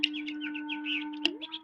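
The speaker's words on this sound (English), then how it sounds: "Birds playing in the fish pond." Radio drama sound effect of birds chirping by a fish pond: quick, high, repeated tweets over a steady low hum, with one sharper call near the end.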